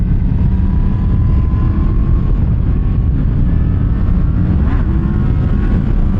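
A motorcycle engine roars steadily and loudly during a wheelie on a cold road, mixed with strong wind buffeting and no clear pauses.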